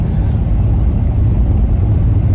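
A 2019 Mercedes-Benz S560 pulls hard on the road, its engine and tyre rumble filling the cabin as a loud, even, deep roar without a break.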